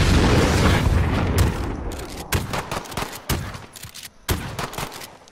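Dense gunfire from a first-person shooter: a continuous stretch of rapid shots, then sharp separate bursts and booms at uneven intervals, loud and close.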